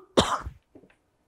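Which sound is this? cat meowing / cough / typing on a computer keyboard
cough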